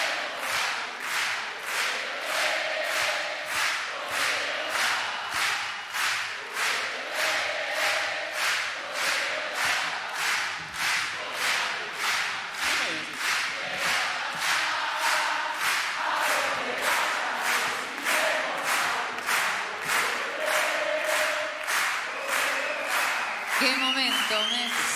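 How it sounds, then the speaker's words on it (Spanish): Steady applause from a concert audience at a 70th birthday recital at the CCK, dense rhythmic clapping sustained for the whole stretch, with faint voices beneath. "un aplauso para ellos, por favor"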